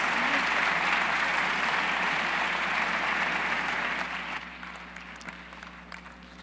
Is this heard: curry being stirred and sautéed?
no